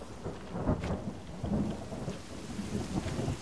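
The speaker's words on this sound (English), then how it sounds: "Why does it always have to start raining?" Steady rain falls with rolling thunder rumbling in the video game The Forest, a dense continuous wash with low booming swells and no voices.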